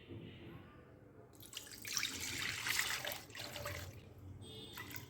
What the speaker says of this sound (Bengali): আমি 1 লিটার দুধ ঢেলে দিলাম।